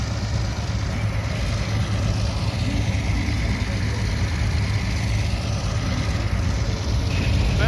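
Engines idling in a long row of vintage and muscle-era tractors, including a 1964 Massey, at a large outdoor show: a steady low rumbling drone, moderately loud and continuous, with no speech over it.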